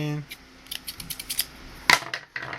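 Sharp scissors snipping through stiff elk rawhide while making a hand drum, a run of quick dry clips and scratchy cuts ending in one louder snap, close and fairly quiet, with someone talking faintly.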